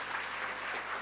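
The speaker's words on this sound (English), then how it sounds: "Can we have a round of applause for both" Audience applause for entertainers at a book launch, a brief even wash of clapping from a crowd, steady and moderately loud.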